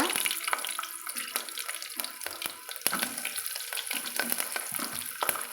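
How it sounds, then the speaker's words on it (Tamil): Chopped shallots dropped into spluttering mustard seeds in hot oil, tempering for sambar rice, give a steady crackling sizzle with brief sharp pops and clatter scattered through it. "கடுகு பொரிஞ்சதும் நம்ம வெட்டி வச்சுக்கிற சின்ன வெங்காயத்தை சேர்த்துக்கலாங்க"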